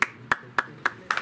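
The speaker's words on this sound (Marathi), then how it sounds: "जोरदार टाळ्या वाजवायच्या" Sharp hand claps at an award ceremony come in a quick, even rhythm, five crisp claps in just over a second, close and clear, with the last two slightly doubled.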